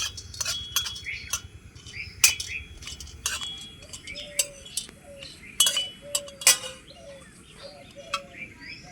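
Whole cloves, cardamom and cinnamon stirred in a dry pan, with a utensil clinking and scraping the metal in scattered sharp taps over a low background hiss, alongside faint bird chirps in the distance.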